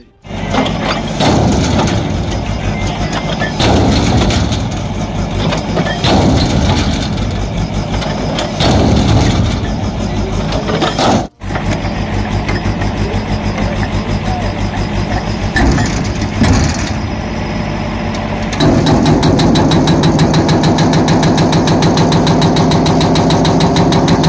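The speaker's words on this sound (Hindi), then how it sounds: "इसके अंदर एक इंजन लगाया गया था, जिसके चलते रेत माफिया रेत का अवैध उत्खनन कर रहे थे।" Engine on a boat used for illegal sand mining runs loud and steady for the whole stretch, a constant mechanical drone with gear-like rattling, close by and never stopping.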